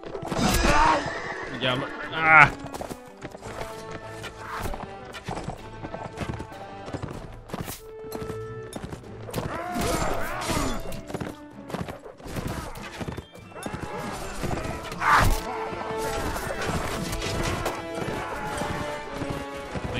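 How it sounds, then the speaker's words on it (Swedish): Horses whinny and gallop in the Mount & Blade game, hooves clattering rhythmically throughout alongside battle noise, with someone speaking over the action. "Kom igen hästisar."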